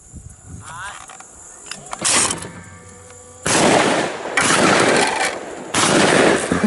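Shotgun blasts during a duck and dove hunt, several loud, close booming shots spaced a second or so apart, with hunters talking between them.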